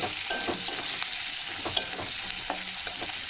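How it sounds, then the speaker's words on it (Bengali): Onions fry in a pan with a steady, close sizzle broken by frequent spatula scrapes and stirring strokes, and no voices. "পেঁয়াজটাকে লাল লালভাবে ভেজে নেব"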